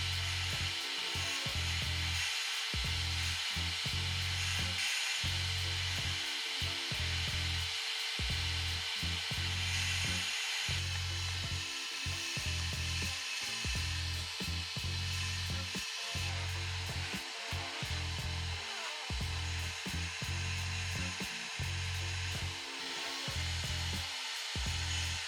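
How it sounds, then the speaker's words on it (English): A vacuum cleaner whines continuously inside a BMW E39 car, with its pitch dipping and surging as the nozzle moves over the interior floor, loud and close. "get all of this vacuumed up"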